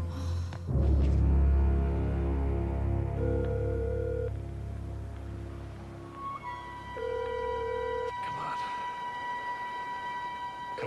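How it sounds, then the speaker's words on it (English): A telephone rings in a 1994 TV movie scene, with sustained tonal ringing and a rising electronic tone layered over a deep low drone. No one speaks. "Mom, pick up the phone."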